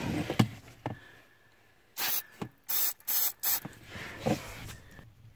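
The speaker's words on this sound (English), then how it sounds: "So all I have to do is just spray it in there." Four short, sharp bursts of Fluid Film lubricant from an aerosol can aimed at a car's brake pedal switch, close and loud against quieter handling noises.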